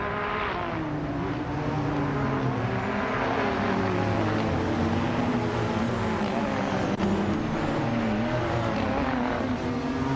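Race cars running closely bunched in a pack, a continuous loud engine roar with overlapping revving tones rising and falling, no clear pass-by peaks.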